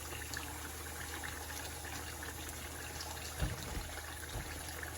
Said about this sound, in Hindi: इसके बाद हम इसको पानी डाल के गलने के लिए रख देंगे